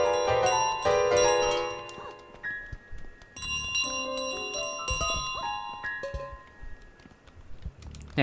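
Bell chimes from the Untitled Goose Game, a cluster of bright ringing tones with clicks early on, then sparser tonal notes and light tapping sounds continuing through the rest.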